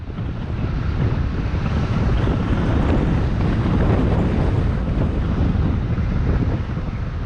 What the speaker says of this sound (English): It's a pretty windy day, so I apologize for that noise